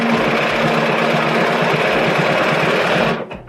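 A Bernina sewing machine runs continuously and loudly at close range, producing a rapid, even mechanical chatter of stitching that stops abruptly near the end.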